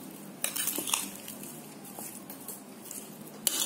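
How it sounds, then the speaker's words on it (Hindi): Amla pickle being mixed with spices in a bowl, close soft scraping and light clinks of a utensil against the bowl in irregular strokes, fairly quiet with no talking. "और इन्हें हम अच्छे से मिक्स कर लेंगे"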